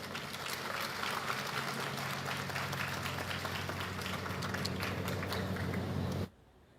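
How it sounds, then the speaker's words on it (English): Steady applause from a graduation ceremony audience at the University of the West Indies Mona Campus, honouring a government minister, even clapping throughout that cuts off abruptly near the end. "Please give her a round of applause."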